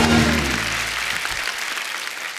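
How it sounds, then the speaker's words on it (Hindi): A studio audience on The Kapil Sharma Show bursts into loud applause for actress Kangana, a thick burst of clapping that starts strong under a fading musical sting and gradually tapers off. "जोरदार तालियां कंगना के लिए।"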